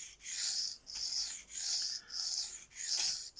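A Para 3 knife sharpened on a Venev bonded diamond stone: five rhythmic gritty strokes, each a sustained rasping scrape with brief gaps between, close up and alone.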